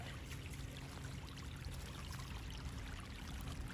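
A small waterfall fed by a fresh spring in a fossil forest in New Zealand, a soft continuous trickling and pouring of water, steady and fairly close but quiet.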